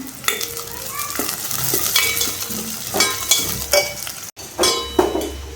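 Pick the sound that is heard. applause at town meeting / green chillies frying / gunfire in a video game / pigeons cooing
green chillies frying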